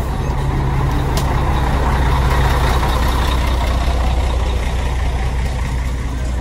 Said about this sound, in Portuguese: Muito ônibus chegando.